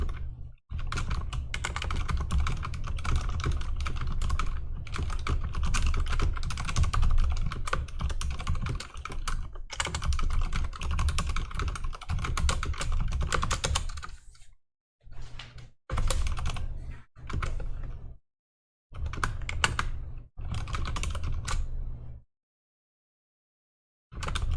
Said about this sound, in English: I'm gonna type it into Discord.